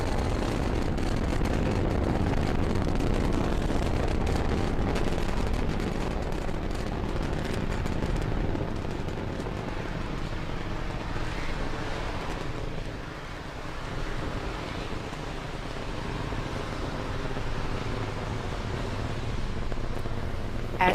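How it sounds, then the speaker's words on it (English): A SpaceX Falcon 9 rocket carrying the TESS spacecraft lifts off from the pad and climbs, producing a broad, steady, rumbling roar that heard from a distance resembles wind and lasts throughout. "Falcon 9 has successfully cleared the pad and is now on its ascent with the TESS spacecraft in its fairing"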